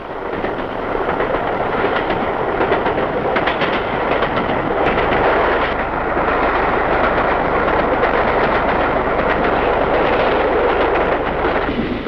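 The 1954 Elizabethan Express train rumbles steadily along the rails, continuous loud roar with rhythmic clattering of wheels over track joints throughout.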